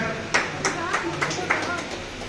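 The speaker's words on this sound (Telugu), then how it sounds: "ఒకసారి గట్టిగా క్లాప్స్" A gathering at a spiritual movement event claps in a few loud, spaced bursts while a voice keeps talking over them.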